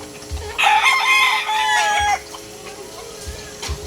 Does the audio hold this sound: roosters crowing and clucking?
yes